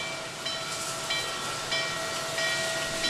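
Steam locomotive 611 runs along the line with a steady hiss and rumble. Soft rhythmic chuffs recur about every half second under a constant high whine, with no voices.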